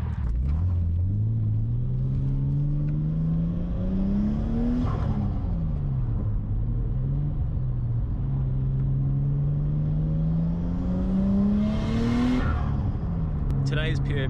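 A Nissan Skyline R33 GTST with mismatched wheels, heard from inside on a road drive, hums and rumbles steadily, its engine note rising and falling through repeated gear changes and climbing revs over a constant road roar.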